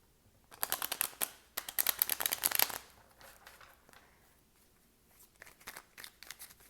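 A deck of tarot cards is shuffled in quick riffling bursts, a dense flurry of crisp card flicks that stops, then softer, sparser card handling follows nearby.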